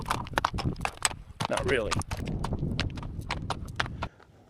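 Hooves of a ridden horse clip-clop in a brisk, steady rhythm close by, sharp clacks continuing for several seconds before stopping, with someone speaking briefly over them.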